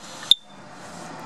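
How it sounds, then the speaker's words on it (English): A single short, high-pitched electronic chirp from a ceiling-mounted smoke alarm with a low battery rings out over a quiet room, with a second fainter chirp near the end. "So we'll start with the smoke alarm. This was beeping, as you can hear, like this"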